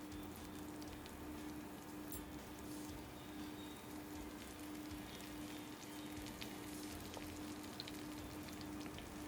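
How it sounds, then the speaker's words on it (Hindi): Okra pieces frying in hot oil give a steady, faint, dense crackling sizzle that runs evenly throughout, with no voices. "ये देखिए फिर से एक एक भिंडी आपने ऑयल के अंदर डालनी है।"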